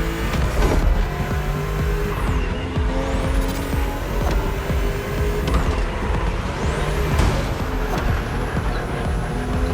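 BMW M2 and M4 cars racing on a narrow, twisting road in The Crew Motorfest, engines droning loudly and continuously with shifting pitch and tire squeals through the bends.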